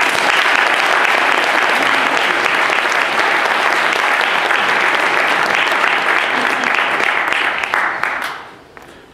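A conference audience applauds as Professor John Dryzek is welcomed at the PSA Annual Conference, with sustained loud clapping that fades out near the end.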